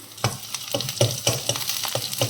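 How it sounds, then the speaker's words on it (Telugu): Ginger garlic paste frying in a pan for bottle gourd masala curry, a continuous sizzle broken by rhythmic stirring scrapes about every quarter second, close and loud, no speech. "పచ్చివాసన పోయే వరకు ఫ్రై చేసుకుందామండి."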